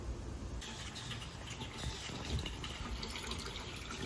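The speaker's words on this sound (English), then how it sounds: "Now the water's flowing." Water gushes steadily into a plunge chill tub through its chiller setup, a close, constant rushing flow that continues unbroken with no one talking.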